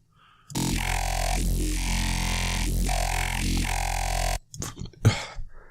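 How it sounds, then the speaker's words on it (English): A thick, buzzing wavetable synth growl drones continuously for about four seconds with slow wobbling swells, then cuts off into a few brief scattered noises. "made a growl recently, a nice growl"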